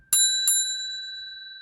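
Two quick bright bell dings ring out close together, each leaving a clear sustained metallic tone that fades slowly with no other sound.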